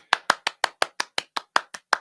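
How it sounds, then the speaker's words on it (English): One person claps about a dozen times in an even, quick rhythm, each clap sharp, close and distinct, with near silence between them and no talking. "Round of applause"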